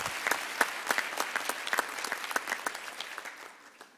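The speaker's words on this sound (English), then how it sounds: "Give her another round of applause." An audience at a doctoral graduation ceremony claps steadily with crisp, distinct hand claps, the applause tapering off toward the end.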